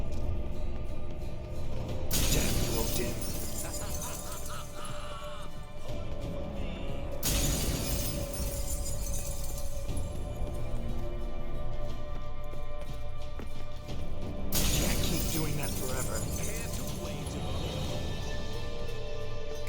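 In The Witcher 3, several loud crashes of glass break out in bursts as mirrors shatter, with horse hooves clopping and mechanical clatter running continuously underneath.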